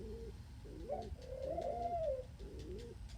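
A pet pigeon-type bird coos softly indoors, several short low rolling coos in a row, then a pause and one more coo, quiet and close with no talk over it.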